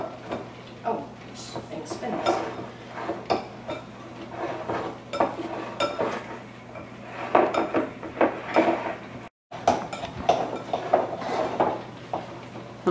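Strawberries and rhubarb being mashed together in a bowl for a crisp, giving repeated soft clinks and squishing knocks of utensil against dish, with kitchen handling noise and a steady low hum throughout.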